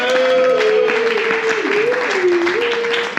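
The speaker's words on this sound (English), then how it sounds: "Please start clapping and start making some noise, ladies and gentlemen" Audience clapping at a stand-up comedy show as a comedian is introduced, steady applause with a sustained voice or tone running over it and a few cheers.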